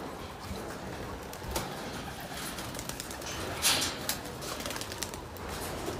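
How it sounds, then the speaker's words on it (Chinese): Racing pigeons at their loft give soft, repeated coos over a steady background hiss, with a few sharper bird calls or wing sounds close by. "我们先把这个赛鸽放出去加飞"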